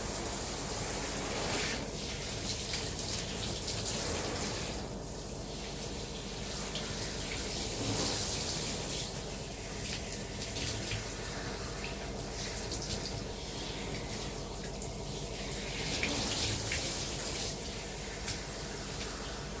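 Tap water pours steadily over hair to rinse out a homemade beetroot dye, a loud continuous rush with shifting splashes as the stream is broken and redirected.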